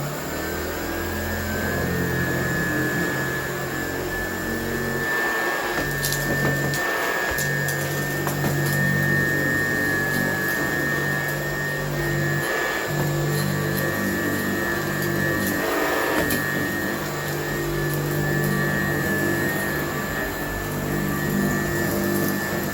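A Hoover Model 26 vacuum cleaner fitted with an aftermarket Dust Care brand part runs steadily on carpet, giving a constant motor hum and whine that stays loud and close throughout with no talk.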